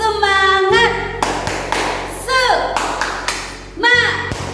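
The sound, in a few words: children doing a rhythmic spirit clap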